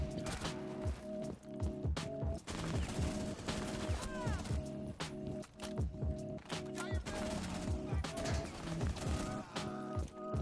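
Rapid gunfire bursts from the tactical shooter game Rainbow Six Siege, inside a building, sharp repeated volleys with short pauses, loud and close throughout.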